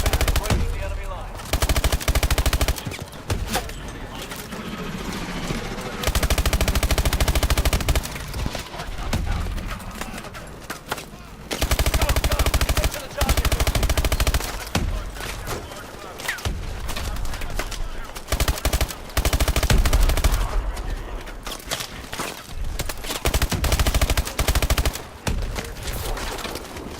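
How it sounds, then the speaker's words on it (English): Sustained automatic gunfire and dense battle effects from the video game Call of Duty: Advanced Warfare, with bursts of machine-gun fire and shots layered over loud combat noise throughout. "We'll keep this suppressing fire."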